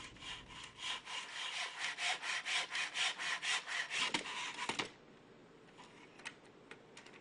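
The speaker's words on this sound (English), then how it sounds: "make sure you cut using a rocking seesaw-like motion" Picture frame molding being cut on a LOGAN F100-2 Pro Saw: a steady, rhythmic back-and-forth sawing of about a dozen close strokes, then it stops and leaves a few soft clicks and handling noises.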